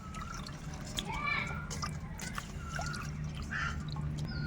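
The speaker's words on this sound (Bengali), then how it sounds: "সুন্দরভাবে মাছগুলো ধুয়ে নেবো" Tangra fish being rinsed in water in a kitchen, with soft splashing and trickling amid a low steady background and a voice faintly heard nearby.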